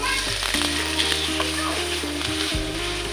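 Onions sizzling in hot oil in a wok for Mie Aceh noodles, a steady close frying hiss running throughout with low mechanical hum and clinks underneath.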